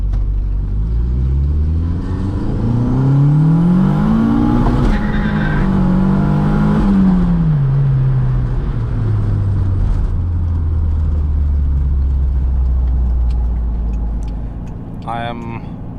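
A car with a high/low boost switch set to low boost accelerates hard, engine note climbing and dropping through gears with tire squeal, loud and close from inside, then settling into a steady drone.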